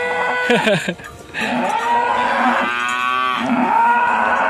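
A loud, drawn-out Belgian Blue cow moo close by in a simple barn, lowing steadily for several seconds, with a brief voice near the start.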